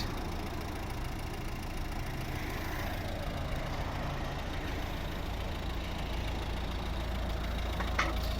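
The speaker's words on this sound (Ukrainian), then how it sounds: "Автомобіль заведений, працює, спеціально завів, щоб під час відеозйомки було чути роботу двигуна" A 2011 Volvo V50 with a 1.6 D2 diesel engine idles steadily and close by, a continuous low rumble with faint knocking and no talk.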